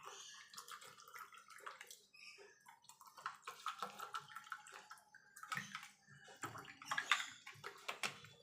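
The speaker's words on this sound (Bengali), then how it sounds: "এবার এর মধ্যে আমি ঠান্ডা জল দেব।" Cold water is poured into a roasted raw green mango sherbet, giving faint, close trickling and splashing in uneven bursts, with no talking.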